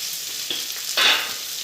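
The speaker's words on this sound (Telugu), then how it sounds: "వంకాయ బాగా ఫ్రై అయిపోయిందండి." Brinjal frying in a pan with a soft hiss of oil, and two short bursts of sizzle as the pieces are moved, close and moderately quiet.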